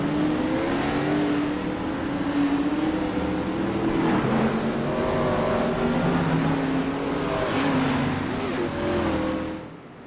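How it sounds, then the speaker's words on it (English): Race cars roll onto the track at Kansas, engines rising and falling as they pass in a steady stream of revving, fairly close and loud, fading at the end. "An amazing qualifying run out of Jacob Morgan as the cars begin to roll"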